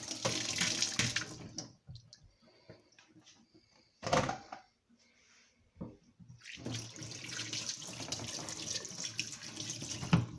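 Blended juice of mango, apple, passion fruit, pear and orange pouring through a kitchen strainer, a steady running-liquid rush that stops briefly midway, then resumes and continues to the end.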